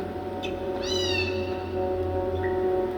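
A kitten gives a single short, rising-and-falling meow, close and clear over a steady background hum, with a couple of faint chirps around it.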